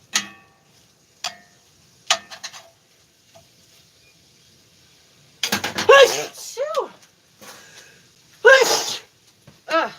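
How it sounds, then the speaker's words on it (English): A few sharp clicks and a soft stir, then two loud close sneezes burst out, separated by a pause. "I sneezed very far away from the food"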